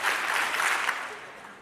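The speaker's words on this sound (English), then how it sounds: "If you hear my voice, clap 4 times." A large conference audience claps together in a steady burst of applause that stays loud and dense throughout, then thins slightly toward the end.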